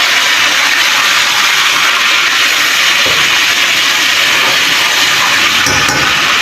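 Ginger and garlic fry in a pan alongside golden-browned onions, giving a loud, steady broadband sizzle and hiss throughout, with a brief clatter near the end.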